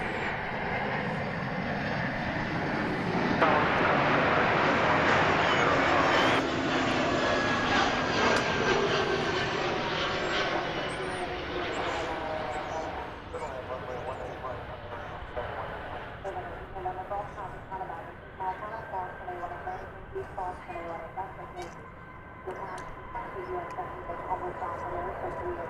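Airbus A321 jet airliner at DFW Airport, a loud engine roar with rising whine that peaks early, then fades gradually into a lingering rumble with tonal whines.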